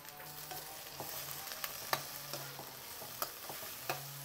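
Curry leaves and onion sauté in oil with a soft, steady sizzle and a faint low hum, punctuated by light spoon taps and scrapes against the pan; fairly quiet, no talk.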